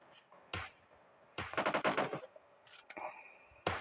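Gunfire in a shooting video game: a single sharp shot, then a rapid automatic burst of about eight closely spaced shots, a few scattered cracks and one final loud report, fairly close and with no talk.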